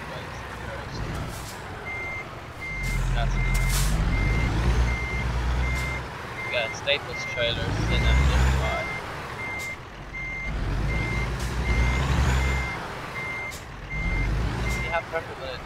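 A truck backs up in American Truck Simulator, its regular reversing beeps pulsing clearly over a rumbling engine that swells and fades. Someone talks through it.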